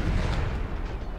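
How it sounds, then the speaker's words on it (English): A cannon firing in an American Civil War video game, one loud, deep rumbling boom that fills the moment and rolls on without a break. "Here's the firing."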